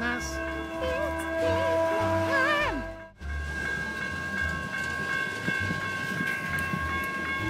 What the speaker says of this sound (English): this is the slowest train in the world